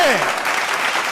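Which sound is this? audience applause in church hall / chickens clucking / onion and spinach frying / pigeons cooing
audience applause in church hall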